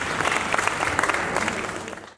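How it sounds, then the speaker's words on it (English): An audience applauds after a dramatized stage reading, brisk, dense clapping filling the room before quickly dying away at the end. "Could I have a round of applause?"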